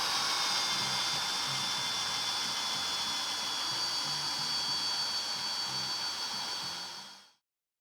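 An annular cutter bores a hole through the metal of a Wilton 800 vise, giving a loud, steady high whine with grinding hiss that holds for about seven seconds before cutting off abruptly.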